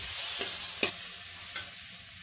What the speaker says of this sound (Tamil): இப்போ ஒரு தக்காளி வாஷ் பண்ணி பொடி பொடியாக கட் பண்ணி போட்டிருக்கேன். அதையும் நல்லா வதக்கணும்.